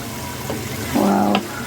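Food fries in a pan with a close, steady sizzle, and a brief tonal squeak or stir sound rises near the end of a very short stretch.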